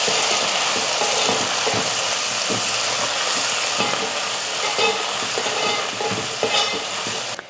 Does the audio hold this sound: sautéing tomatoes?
yes